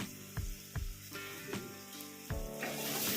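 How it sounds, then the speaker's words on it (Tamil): Tomatoes sautéing in a frying pan with curry leaves and asafoetida for a Tamil lunch dish, a steady close sizzle broken by several sharp stir scrapes and clatters, no voices. "தக்காளி பழம் சேர்த்ததுக்கப்புறம் நல்லா வதக்கி விடலாம்."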